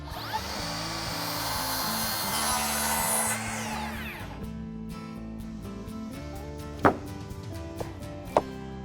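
A power saw cuts about 16 inches off the end of a rough sawmill lumber board, a loud whining rip for several seconds that cuts off, followed by a motor winding down and a couple of sharp knocks.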